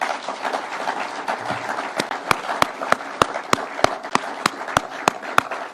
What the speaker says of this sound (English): Can we clap for these people?